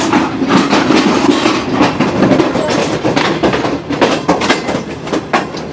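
The Shalimar Express 27 Up passenger train runs on double track between Rohri and Multan in Pakistan, with a loud, steady rumble from close by and repeated clickety-clack wheel beats over rail joints.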